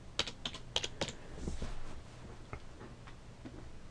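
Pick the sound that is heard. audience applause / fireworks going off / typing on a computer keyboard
typing on a computer keyboard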